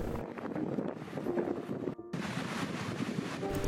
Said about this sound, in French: Ici, le vent souffle